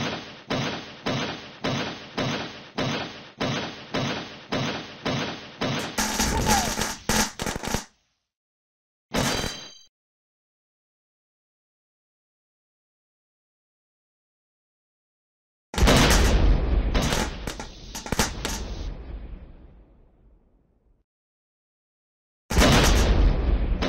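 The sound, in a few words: explosions set off by rock fragments in video game hotcorn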